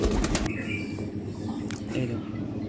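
A male Madrasi pigeon, a pure-bloodline breeder kept in a loft, gives brief coos and wing flutters close by while someone talks over it.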